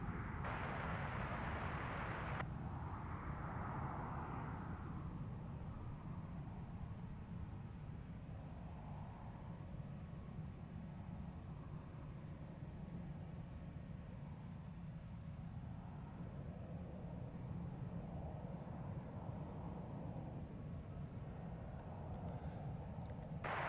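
A VistaJet business jet departs Luton Airport as a broad, faint rumbling roar that swells and lingers in the distance under steady background noise, with no talking.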